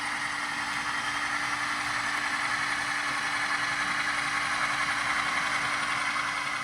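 A switch locomotive in Great Northern paint idles on a rail yard throat, a steady low diesel drone with a constant hum, moderately distant and unbroken, with no talk.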